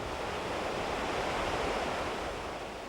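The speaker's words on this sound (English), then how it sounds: "What's claimed to be the biggest natural spring in Europe pumps a constant stream of freezing water into the river." Europe's largest natural spring at Blagaj in Bosnia pours a constant stream of freezing water into the river, heard as a steady, dense, broadband rush with no talk.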